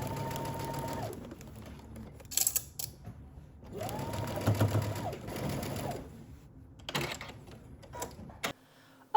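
Sewing machine stitching a pant crotch seam with a 5/8-inch seam allowance: two clear whirring runs with a pause between, then a few short mechanical clicks and bursts before it cuts off.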